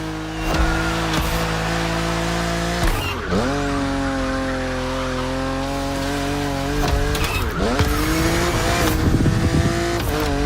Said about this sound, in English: Your car is the Z4 E89, a very cool model for two major reasons.